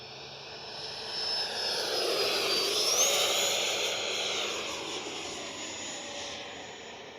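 An X-Fly Sirius 80mm electric ducted-fan RC sport jet flying overhead, a continuous whooshing whine that rises and swells as it passes near, then eases slightly, steady throughout with no talk.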